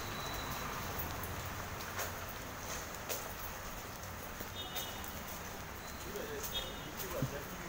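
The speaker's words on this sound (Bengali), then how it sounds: "বৃষ্টিটা বাড়ছে।" Steady rain falling outdoors makes a continuous, even hiss with scattered faint taps, and muffled voices are heard in the background.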